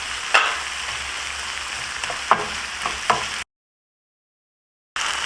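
Olive oil fries in a pan with a bright steady sizzle and a few sharp crackling pops, then cuts to silence before the sizzle returns.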